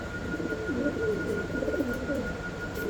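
Fancy pigeons kept for sale coo in close, repeated throaty rolls over a steady background hum, several soft calls overlapping in a short stretch without speech.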